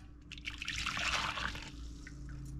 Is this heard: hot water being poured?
yes